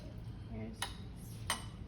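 Metal spoons picked up and set out as cutlery for a taco meal, two sharp clinks about a second apart over a quiet room hum with faint background voice.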